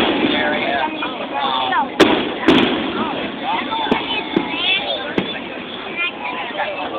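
Fireworks bursting over Melbourne, Florida, with sharp distant booms and crackles scattered through the clip beneath steady background murmur and people talking nearby.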